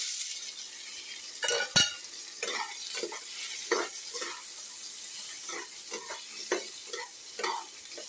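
Tomato goes into hot oil flavoured with panch phoron and sizzles steadily up close, with a sharp clatter at the start and then a string of spattering pops and stirring scrapes.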